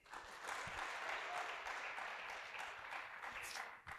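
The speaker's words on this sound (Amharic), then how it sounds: "አጨብጭቡ ለጌታ።" A church congregation in Addis Ababa claps together in worship, producing a continuous, fairly soft roar of many hands that swells briefly and then fades at the end.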